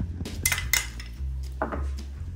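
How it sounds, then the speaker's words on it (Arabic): A spoon clinks and scrapes against a dish while yogurt is added onto chicken musakhan filling, giving a few close, sharp metallic taps followed by softer scraping. "بكل بساطة راح اضيف معلقتين لبن"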